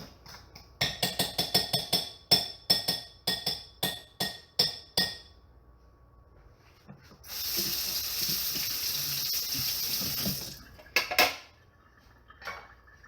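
A kitchen tap runs water for a few seconds while something is rinsed off, after a run of sharp clinks of glass and dishes; a few more clinks follow as the water stops.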